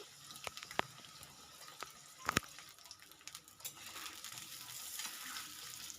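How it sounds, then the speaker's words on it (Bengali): Potato cubes frying in hot mustard oil in a wok, a soft crackling sizzle with a few sharp pops and spatter clicks, quiet and close, no talking. "আলুটা আমি ভালো করে ভেজে নিচ্ছি"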